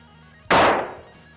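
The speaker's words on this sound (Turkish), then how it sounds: "Bir tane daha sıktık şu an." A single loud, sharp pistol shot fired at a backpack, close by, with a sudden crack that decays over about half a second in an otherwise quiet space.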